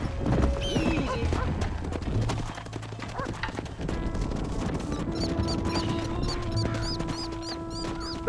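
Horse hooves in the Red Dead Redemption video game: a rapid clip-clop of galloping hooves, close and fairly busy, mixed with game ambience and music-like tones, with a brief neigh or snort near the start.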